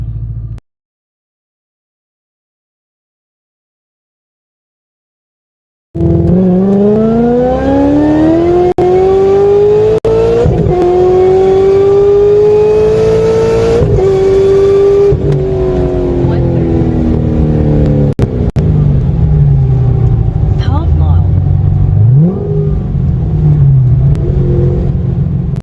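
A Corvette ZR-1 accelerates hard from 60 to 130 mph in winter, its engine note rising steadily and loudly through the gears with brief dips at shifts, following several seconds of silence.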